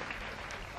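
A wrestling crowd applauds after a match between Mariko Yoshida and Kyoko Inoue, giving a dense, steady wash of clapping heard from within the arena, fairly faint and without clear talk over it.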